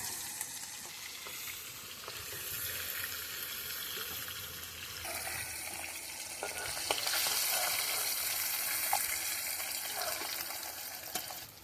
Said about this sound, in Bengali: একইভাবে আমরা বাকি মাছগুলো ভেজে নেব।